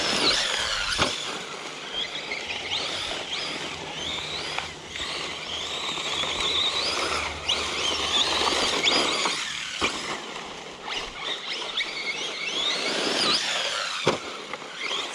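A Redcat Valkyrie RC car drives with a continuous buzzing, whining motor that rises and falls as it speeds along, punctuated by a few sharp thumps, and no talking.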